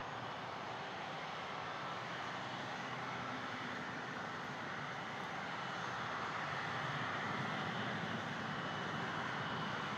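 Air Canada airliner in TCA livery landing on runway 24 left at Toronto Pearson, a steady broad engine roar heard from a distance that holds for the whole stretch and swells slightly toward the end, with no voices.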